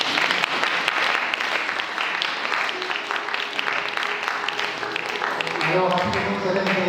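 An Easter service congregation in Pointe-Noire breaks into loud, dense applause and cheering for Jesus, the clapping sustained throughout, with a voice speaking over it near the end.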